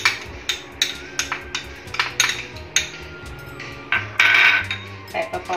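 Chopped onion with turmeric and other spices mixed in a bowl, heard as a run of sharp metallic clinks and scrapes of a spoon against the bowl in an uneven rhythm, close and fairly loud.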